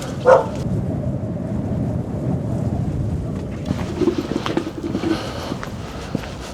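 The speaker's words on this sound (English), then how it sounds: "there is in fact a pack of wild dogs cutting about this cemetery, all barking to each other" A pack of stray dogs roams an abandoned cemetery in Moldova, with a few barks popping out over a steady, rumbling outdoor background; the barks are scattered and mid-distance rather than close.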